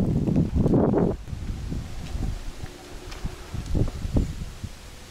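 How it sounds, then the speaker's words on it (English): Wind gusting through trees at a Sri Lankan hilltop temple with a large reclining Buddha statue, a loud buffeting rush at the start that settles into softer rustling of leaves and a few scuffs nearby. "Look at the wind."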